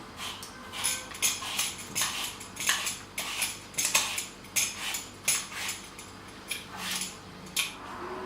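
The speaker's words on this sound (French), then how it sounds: "On épluche la pomme, bien évidemment." A knife peels an apple for apple tarts, giving a steady series of short scraping strokes, close and fairly quiet, repeating roughly every half second with small clinks, no voices.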